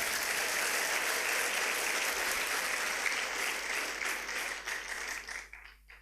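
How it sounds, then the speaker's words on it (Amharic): A church congregation at a prophet's service applauds for the Lord, dense sustained clapping from many hands filling the hall, then thinning and tapering off near the end. "አጨብጭቡ እስቲ ለጌታ።"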